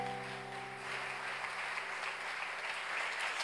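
A church congregation applauds the Lord with sustained, dense clapping from many hands, steady and fairly even for several seconds, with a faint sustained tone underneath.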